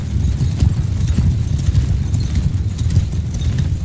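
Cavalry horses gallop across a medieval battlefield in Mount & Blade II Bannerlord, a dense, loud rumble of many hooves pounding steadily without pause, with no voices.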